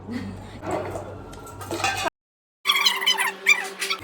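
Szechuan chutney is spooned into bowls of spicy Korean noodles. Close clinks and scrapes of utensils on dishes come in short bursts, broken by a brief silent gap, with background noise throughout.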